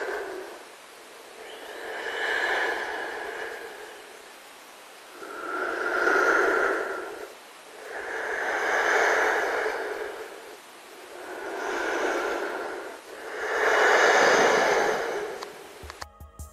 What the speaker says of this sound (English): there's a pretty creepy sound effect of some heavy breathing